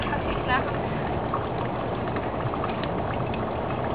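Wood ash lye water, carrying bits of debris, poured into a pot: a steady, close splashing and gurgling stream of liquid that runs without a break.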